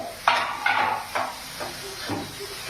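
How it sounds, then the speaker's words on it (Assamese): Boiled potato pieces drop into a simmering fish curry with madhusuleng. Four or five soft plops land one after another, fading in loudness, over a steady low bubbling hiss. "এতিয়া সিজাই লোৱা আলুকেইটুকুৰা দি দিম।"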